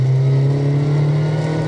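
A Mazda MX-5 NC fitted with a Rotrex C30 supercharger accelerates hard. The engine drones loud and close, with a strong steady tone from inside the car and the rising whir of the blower.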